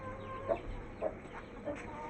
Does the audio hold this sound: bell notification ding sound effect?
no